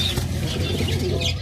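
Alexandria pigeons coo softly nearby with a rustle of wing flaps, a low murmuring coo repeating over faint background noise.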